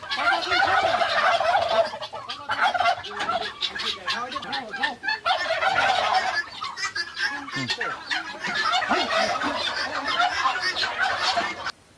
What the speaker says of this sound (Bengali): টার্কি মুরগির ফার্মে আইছি, বড় বড় টার্কি নিয়ে আমরা টার্কির ভিডিও করবো